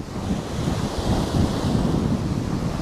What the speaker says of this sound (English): We've got some nice waves, some perfect temperatures.